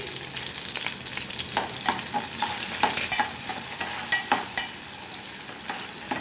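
Onion with ginger-garlic paste frying in a pot for churna bhaji gives a steady close sizzle, broken by repeated scraping and clinking strokes of a spoon stirring through the mixture.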